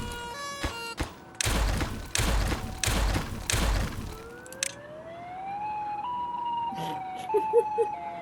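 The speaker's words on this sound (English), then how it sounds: "This is not what tornado sirens sound like." A tornado siren in the Timberborn video game sounds first as several loud, heavy pulsed blasts, then gives way to a rising, wavering synthetic wail with a few short beeps near the end.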